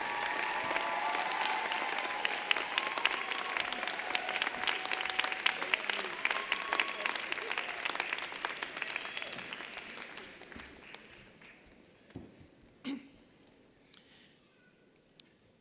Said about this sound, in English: Please give a round of applause to these graduates who have devoted many years to be here today